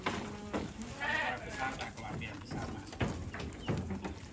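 Jawarandu goats on a farm raising jumbo goats for Eid al-Adha bleat several times nearby, amid a steady noisy background, while people talk over them.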